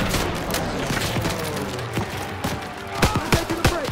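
A squad opens fire in Call of Duty: WWII, sustained rifle and machine-gun fire in overlapping bursts with sharp close shots toward the end, while soldiers shout orders over the din.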